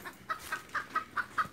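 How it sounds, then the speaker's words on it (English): A nervous chicken on a rustic farm clucks seven times in a quick, even rhythm, close and moderately loud. No one talks over it. "Chicken's a little bit nervous."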